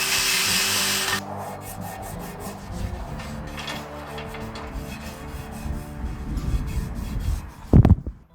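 Rough, rhythmic rubbing and scraping of sandpaper over a Mustang car wheel, after a brief burst of hiss, ending with a few sharp knocks.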